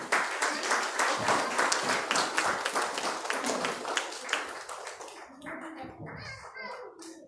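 A church congregation at a Sunday service claps steadily in a quick regular rhythm to welcome the pastor, loud and close, then the clapping fades out into quieter room sound and a voice.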